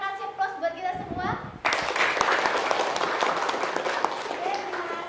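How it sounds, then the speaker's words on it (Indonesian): Audience applause at a school coaching session: a voice speaks at the start, then clapping from many hands bursts in loudly and continues as a steady dense patter to the end. "Kembali lagi kita kasih aplaus buat kita semua."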